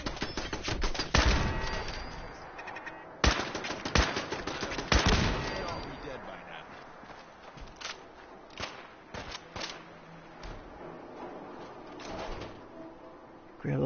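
Rapid bursts of automatic gunfire from mounted turrets and gunners in Fallout 4, loud sharp volleys near the start that thin into scattered, farther shots.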